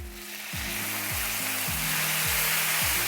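Eggplant caramelizing in a hot pan sizzles loudly and steadily as vinegar goes in, a dense continuous frying hiss with no talking.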